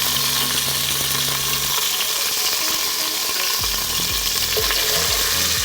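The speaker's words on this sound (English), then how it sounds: "So we're just gonna kind of cook it in the oil for a little bit." Red chili paste frying in oil for Khmer chicken red curry, a loud, steady close-up sizzle with bursts of stirring and spatula scrapes in the second half.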